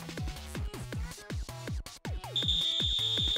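A game-over beep buzzer from the Nikke event Golden Coin Rush comes in as a steady high electronic tone near the end, over bouncy game music with descending tones.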